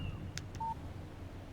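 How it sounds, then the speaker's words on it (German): A brief electronic phone notification in the Alan Wake video game, a pair of short chirps and a thin beep, sounding faintly over a low background hum. "Eine SMS von Barry."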